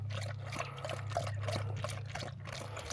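A thirsty dog named Lilly Belle laps water outdoors near a river, a steady close wet trickling and slurping that runs without pause over a low constant hum.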